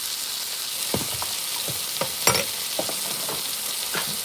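Onions and mushrooms frying in butter in a pan for a steak dinner, a steady close sizzle broken by scattered scrapes and clicks of a utensil moving them around.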